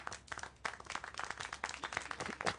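Lively clapping and applause from a crowd in the video game Siberia: The World Before, steady and dense throughout with a few sharper bursts, no voices over it.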